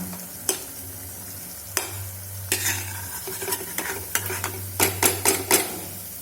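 Small shankarpali-style mini balushahi sweets deep-fry in hot oil with a steady sizzle, while a spoon or slotted ladle repeatedly clinks and scrapes against the pan, the taps growing quicker and sharper toward the end.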